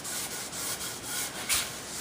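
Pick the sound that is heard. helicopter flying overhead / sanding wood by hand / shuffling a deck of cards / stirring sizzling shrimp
sanding wood by hand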